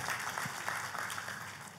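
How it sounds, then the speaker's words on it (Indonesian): A church congregation claps during a worship service, a faint, diffuse patter of hands that carries on steadily without a clear break. "tepuk tangannya yang meriah buat Tuhan kita"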